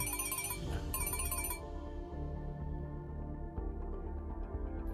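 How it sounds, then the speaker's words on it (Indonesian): An incoming-call telephone ringtone plays loudly and continuously as a melodic tone over a sustained musical background in a drama scene. "Telepon dari Aldi."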